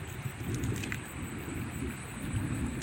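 Steady rain falls outdoors with a low rumbling undertone that may be distant thunder, a continuous close hiss and patter at moderate level.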